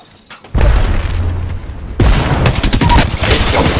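A grenade explodes in the video game Apex Legends, with booming blasts and crackling gunfire that kick in loudly and keep going over several seconds.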